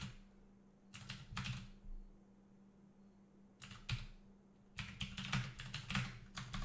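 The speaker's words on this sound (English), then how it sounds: "Absolutely furiously key mashing." Keys on a computer keyboard are mashed furiously in quick, clattering bursts, a short flurry, then a longer pause, then another burst and a sustained rapid run, close and fairly quiet with no talking.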